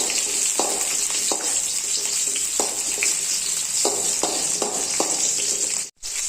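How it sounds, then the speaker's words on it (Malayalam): Ten peeled shallots sautéing in a pan for a chutney, a continuous close hiss of sizzling oil broken by soft irregular clicks and scrapes of stirring, with a brief dropout near the end. "പത്ത് ചെറിയ ഉള്ളിയാണ് തൊലി കളഞ്ഞ് എടുത്തിട്ടുണ്ട് അതുകൂടെ നമുക്ക് ഇതിലേക്ക് ഇട്ടൊന്ന് വഴറ്റി കൊടുക്കാം"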